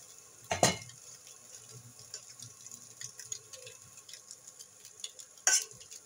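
Rice stirred in a pan for fried rice, a soft scraping and light sizzle under the spoon, with two sharp clanks of the utensil against the pan, faint and close.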